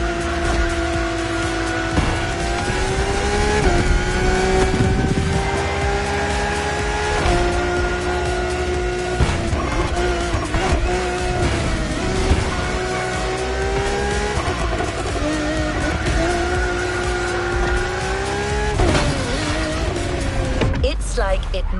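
Racing cars in the video game The Crew Motorfest roar close by in a steady sustained engine drone with rising and falling pitch as they overtake, with brief shifts and a tire squeal, mixed with game music or commentary.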